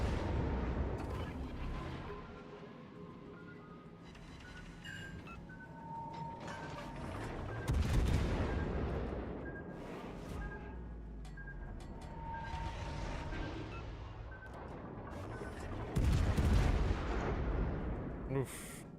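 Artillery fire in a war video game, booming shots recurring every few seconds over a continuous battle din, with heavier blasts near the middle and end and a voice talking intermittently.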